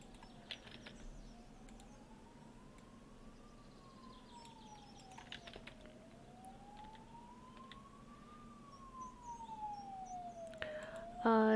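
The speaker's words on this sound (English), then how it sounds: "If you're hearing ambulance noises, I'm next to a fire department" An emergency vehicle siren wails near a fire station, rising and falling in slow sweeps for several cycles over a low steady hum, moderately distant and fairly faint, with a louder burst of noise at the very end.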